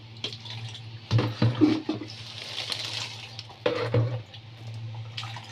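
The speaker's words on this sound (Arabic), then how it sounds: "ودي نفس الميه اللي فاضله هنعبيها" Leftover water is poured into small jars of salted lemons in a home kitchen, a close splashing trickle with several louder bursts of gurgling as the stream hits the jars, without any talking.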